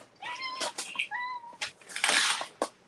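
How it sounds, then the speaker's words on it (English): A cat meows and yowls in short, tonal cries indoors, some of them close and one sharp and harsh, while it attacks something in a corner. No speech is heard over it. "I don't know what that cat's attacking in the corner there."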